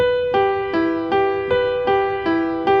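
A single piano chord rolled note by note, descending and then rising again in an even, unhurried rhythm, played alone and clear.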